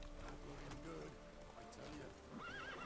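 A horse neighs and whinnies in the fantasy game Witcher 3 as its rider spurs it on, with clip-clopping hooves close by and a voice speaking over the top.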